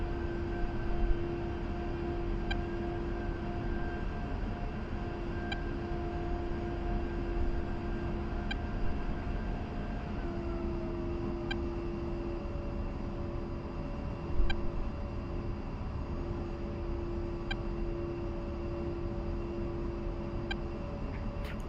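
An A-10C jet in DCS taxis with a steady, fairly quiet engine whine and hum, while faint regular ticks repeat and one tone shifts pitch midway.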